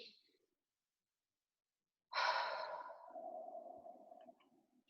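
One slow, deep breath taken during a calming pause, drawn in and released softly and close after a stretch of silence, with no one talking.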